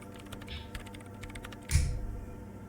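Typing on a computer keyboard: a run of light, quick key clicks, close and fairly quiet, ending with a louder thud of a key press.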